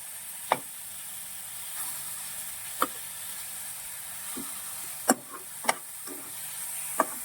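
Tomatoes softening in hot oil in a pan give a quiet, steady sizzle, broken by a few sharp clicks and taps of a spoon against the pan.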